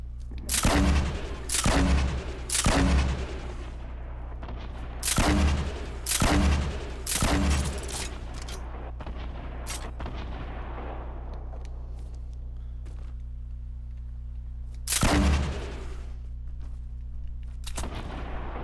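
Sniper rifle shots in a Fortnite match crack out sharply as loud, close reports, several in quick pairs and triplets, then a long lull before a final shot, all over a steady low game hum.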